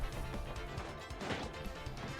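In a video game called The Thousand-Year Tale, a hammer smashes into a character's face with a dense, crashing impact that stays loud and noisy throughout the short burst.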